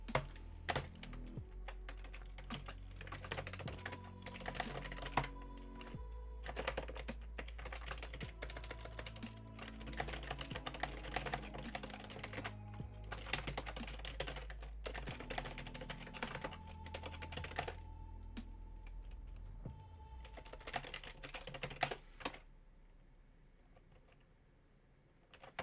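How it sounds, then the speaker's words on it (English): Typing on a computer keyboard, with bursts of quick key clicks in irregular clusters over a low background hum, close and moderately loud, fading to quiet at the end. "how long did I spend typing that diagram?"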